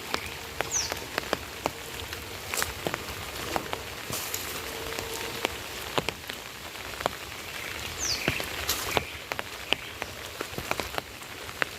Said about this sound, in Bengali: এদিকে আবার বৃষ্টি পড়ছে।